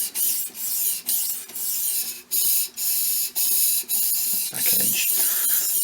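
A knife blade is drawn across the 1000-grit stone of a Tech Studio Russian knife sharpener, making loud, close rasping strokes repeated about a dozen times in a steady back-and-forth rhythm with brief gaps, and no talking.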